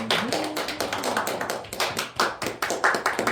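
Church congregation clapping at a service, a close, loud burst of hand claps with uneven, fast rhythm and no talking over it.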